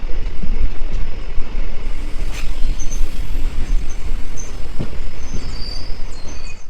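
Guwahati to NJP special train running in the morning near Bilasipara, a steady rumbling roar throughout with faint high clicks and squeaks, close and continuous with no talking.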